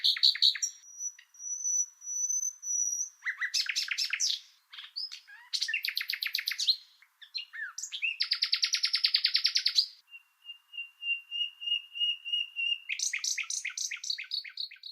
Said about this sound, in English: you know I'm talking about the nightingale